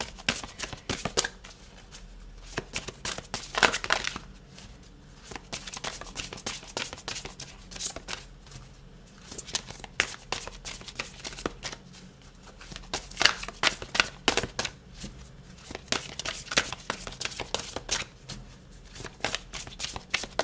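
A tarot deck is shuffled vigorously and close by, in rapid repeated bursts of crisp card slaps and riffles that stop briefly and then start again.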